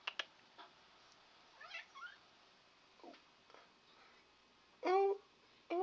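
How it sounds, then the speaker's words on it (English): A house cat meows several times in a casual indoor cooking setting, short separate calls with a louder, longer meow near the end, fairly close by, with no talking. "Why you meowing?"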